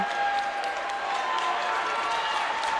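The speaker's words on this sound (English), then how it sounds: "both cheering sections rise to their feet as we get ready to tip it off in overtime" Basketball fans at an IHSAA sectional championship boys' game between Angola and Concordia cheer and applaud before overtime tip-off. A dense, steady crowd roar fills the whole stretch without pause.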